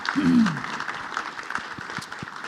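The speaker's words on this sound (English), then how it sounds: "We can clap now for both our respondents." Audience clapping for two respondents at a housing inequality breakout session, steady scattered applause from a modest room with a short vocal sound at the start.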